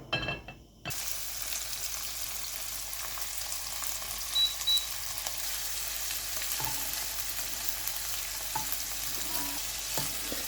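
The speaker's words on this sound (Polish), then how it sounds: "Po nagrzaniu dokładamy krewetki i obsmażamy po minucie z każdej strony." A steady, broadband sizzle of shrimp frying in hot oil in a pan fills the clip, with occasional faint clicks and stirring sounds; no voices.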